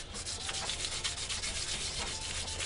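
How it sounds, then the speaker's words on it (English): Wet sanding a knife blade made from a saw blade: a continuous rough scrubbing rub with rhythmic back-and-forth strokes, steady and close, with no talking. "Oh, actually a lot of wet sanding."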